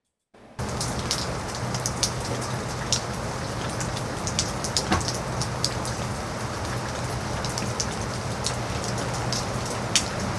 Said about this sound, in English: we have the rain hitting everything in the environment. Say leaves of trees and ground and stuff